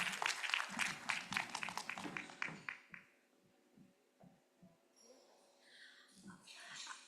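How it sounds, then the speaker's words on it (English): A round of audience applause for a speaker at a conference session on community-based organisations, a burst of clapping that fades after about three seconds, followed by quiet room noise and a few faint sounds. "Please give her a round of applause."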